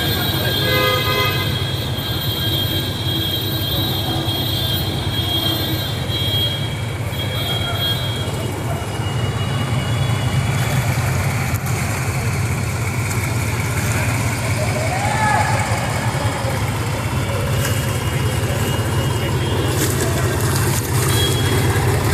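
Vehicles pushing through a flooded street at night during heavy Mumbai rainfall; a steady, loud traffic rumble with scattered horn toots runs throughout, and voices can be heard in the background.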